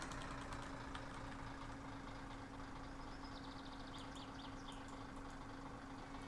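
A car engine in My Summer Car just started and now idling, a faint steady low hum with a constant tone, alone without speech.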